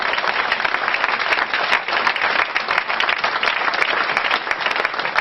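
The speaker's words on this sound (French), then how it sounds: "Qu'il acclame le Seigneur." A church congregation applauding to acclaim the Lord: dense, steady clapping from many hands that fills the room without a break, loud and sustained with no voices standing out.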